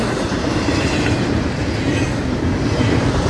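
A train rolls steadily past close by, a mixed freight with intermodal cars, its continuous heavy rumble and faint clickety-clack of wheels on rail filling the whole stretch at a loud, even level.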